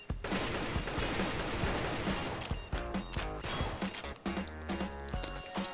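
Dense CS:GO gunfire fills the whole stretch, with rapid overlapping bursts and single cracks rattling loud and close, some heavier impacts near the end.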